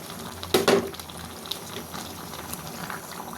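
Coconut milk for a banana heart and chicken dish bubbling in a pot, with a brief louder splash or stir early on, then a soft, steady simmer up close.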